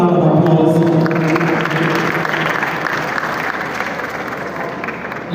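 Applause for Dr. Friday Kano Uche at a stage play event, a sustained round of clapping from a large audience that starts loud with some lingering voices and gradually thins out.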